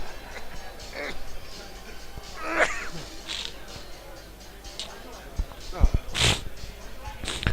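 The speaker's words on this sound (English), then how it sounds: "just having a little sneeze" A person with a cold sneezes at a football ground, a short sharp burst standing out near 2.6 seconds, with another abrupt burst toward the end amid crowd murmur and outdoor background noise.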